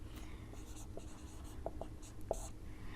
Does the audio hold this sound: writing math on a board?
yes